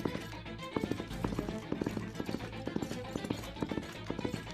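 Horse hooves gallop in a fast, steady clip-clop rhythm, loud and close, over a busy background.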